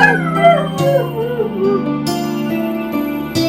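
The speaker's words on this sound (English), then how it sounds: "Do some howling." A dog howling close up, a drawn-out wavering howl with rising and falling pitch, followed by steady tonal sounds that continue to the end.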